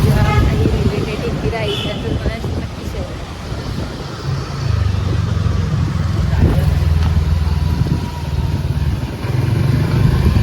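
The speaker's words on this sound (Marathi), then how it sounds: "बाईक राईड स्टार्ट केले" A motorcycle engine drones steadily while riding along a road at night, with wind rumble and traffic noise and a voice talking over it.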